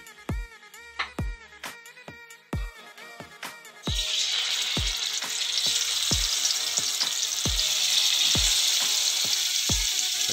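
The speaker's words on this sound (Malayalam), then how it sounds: "ചീനച്ചട്ടി ചൂടായി വന്നിട്ടുണ്ടെങ്കിൽ നമുക്ക് നമ്മുടെ ചെമ്മീനൊന്ന് വറുത്തെടുക്കാം." Prawns dropped into hot coconut oil in a cheena chatti, first a few sharp regular clinks, then a sudden loud spitting sizzle that swells and holds steady, with the clinks continuing beneath.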